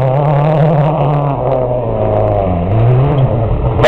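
A rally car at Wales Rally GB slides very sideways through a left-hand corner, its engine droning loud and continuous and rising and falling in pitch as it scrubs off speed, close by.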